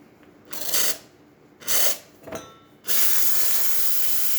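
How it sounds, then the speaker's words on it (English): A Bezzera BZ-10 espresso machine's steam wand hisses in three short bursts, then opens into a loud, continuous rush of steam, close up with no talking. "Check the steam."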